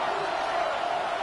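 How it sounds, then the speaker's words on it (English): Football stadium crowd noise swells as a steady, loud roar through the whole moment, a continuous wash of voices ahead of a third-down play. "This crowd into it now as we get to 3rd down."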